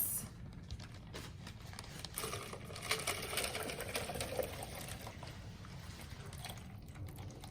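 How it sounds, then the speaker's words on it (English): Water pours from a bag into a small mini-ecosystem container, a quiet trickling and splashing that runs for several seconds with faint bursts of liquid noise. "So all you need to do is simply open your bag and carefully pour in the contents."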